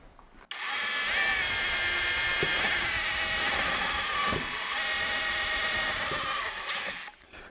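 A Bosch drill fitted with a OneChuck chuck whirs steadily while boring dowel holes, running at near-constant speed for about six seconds, starting abruptly and then winding down, close and alone without talk.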